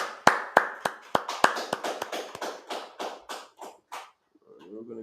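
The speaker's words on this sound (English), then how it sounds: "All right, clap it up." A small group claps in an irregular rhythm, about a dozen sharp, close claps slowing and fading out, ending with a brief voice.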